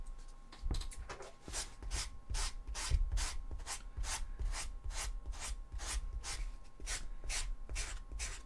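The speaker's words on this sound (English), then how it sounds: "We need to sand these down." Close, steady hand sanding of cosplay handle parts for a Sisters of Battle costume, a rhythmic back-and-forth rasping of even strokes that keeps going without pause at a fairly soft level.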